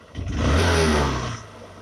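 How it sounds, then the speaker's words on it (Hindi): A 2019 Honda Shine SP motorcycle engine revs up as the throttle is opened, swelling into a loud, sustained mid-pitched roar that holds for about a second before easing off, close by with no talk. "अभी मैं थ्रॉटल खोलने के बाद तुरंत जो है रेस जो है आपका कम नहीं हो रहा है"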